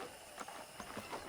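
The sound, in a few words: horse hooves clip-clopping in video game Red Dead Redemption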